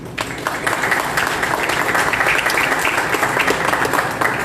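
A conference audience applauds as an engineer is welcomed to the stage for a talk on road works evaluation: steady, fairly loud dense clapping fills the room throughout with no pauses.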